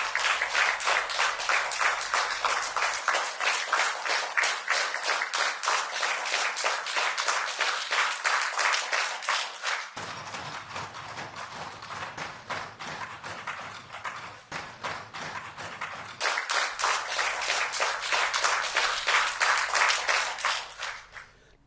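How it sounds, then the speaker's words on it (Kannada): Cabinet ministers applaud Prime Minister Modi for becoming India's longest-serving Prime Minister, a steady, dense round of many hands clapping that carries on for over twenty seconds, dipping slightly in the middle before swelling again. "ಇವತ್ತು ಸಂಪುಟ ಸಹೋದ್ಯೋಗಿಗಳು ಚಪ್ಪಾಳೆ ತಟ್ಟೋ ಮುಖಾಂತರ ಮೋದಿಯವರಿಗೆ ಅಭಿನಂದನೆಯನ್ನು"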